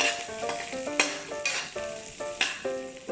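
Onions dropped into hot oil in a frying pan alongside garlic, a bright crackling sizzle with rhythmic stirring clinks and scrapes, close and steady, no speech.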